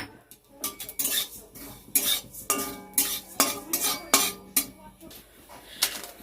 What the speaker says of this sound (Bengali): এবার এই জিরেটা শুকনো খোলায় ভেজে নেবো প্রথমে